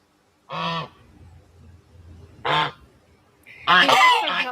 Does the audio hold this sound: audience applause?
no